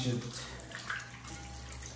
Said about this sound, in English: should wash my hands. Everything good. Water's flowing, everything fine.